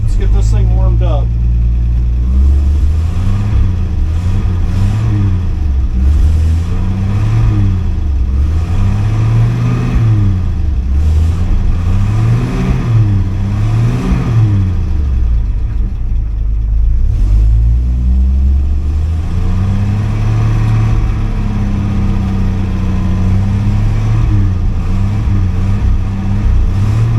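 A car engine being warmed up revs repeatedly, rising and falling in a steady rhythm of blips, loud and close, with a voice talking over it.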